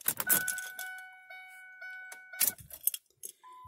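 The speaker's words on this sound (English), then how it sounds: "we're going to turn our key on." A car key jingles and turns in the ignition during a reverse light switch repair, with a soft key jangle, a clicking turn and steady electronic warning chimes, close and quiet, with no talk.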